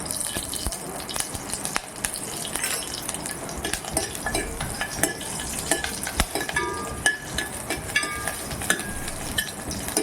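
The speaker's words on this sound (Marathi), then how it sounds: "हे बघा चांगलं असं तुडूप वाजायला पाहिजे" Mustard seeds and chilli pieces crackle and pop in hot oil for tempering, a steady spattering sizzle with frequent sharp snaps close by.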